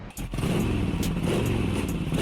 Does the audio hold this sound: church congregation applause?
no